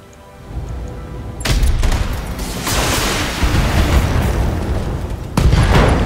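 A loud explosion from a critical hit on a mech's ammunition in the BattleTech video game, a sharp blast followed by a sustained rumbling roar and a second burst near the end.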